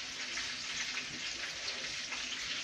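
Kitchen tap running while hands are rinsed under it, a steady, close hiss of flowing water with slight splashing variations throughout.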